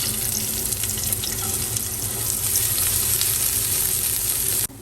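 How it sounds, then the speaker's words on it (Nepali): Onion fries in a pan for chowmein with a loud, continuous, close-up sizzle that holds steady throughout before cutting off abruptly at the end. "त्यसपछि मैले प्याज राख्छु।"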